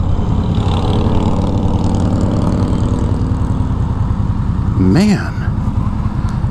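A 2016 Victory Octane liquid-cooled motorcycle engine running steadily with a loud, constant rumble, heard from riding on the road. Someone speaks briefly over it.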